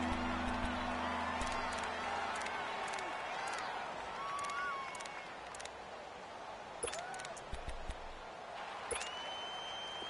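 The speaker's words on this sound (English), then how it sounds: "the crowd getting into it as we come up on a big third down" Stadium crowd noise in a football video game, a steady roar of cheering after a sack that holds for the whole stretch, with a commentator talking over it.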